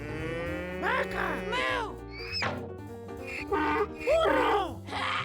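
A cartoon cow moos several times in a row for a children's animal-sounds vocabulary lesson, loud and close, with long drawn-out lowing calls.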